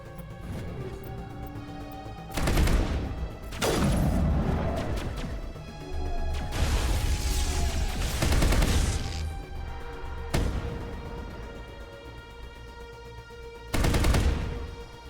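Gunfire erupts in a Mass Effect Legendary Edition firefight, with repeated loud bursts of automatic weapon fire and sharp impacts over a steady game soundscape, several intense volleys recurring across the stretch.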